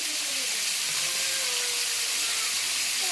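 Malabar spinach and potato with salt and turmeric fry in a pan, giving a loud, steady, broadband hiss and sizzle that continues unbroken.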